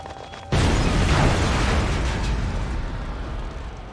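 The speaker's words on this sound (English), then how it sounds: "Various explosions." A sudden loud, rumbling blast erupts in The Warriors video game and keeps roaring as sustained explosive noise and debris, alone and close.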